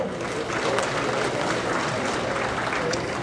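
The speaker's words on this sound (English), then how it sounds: "Give him a nice round of applause, please." Steady applause from a banquet crowd at an auto racing awards dinner honoring 2010 champions, a dense continuous wash of clapping that holds evenly throughout.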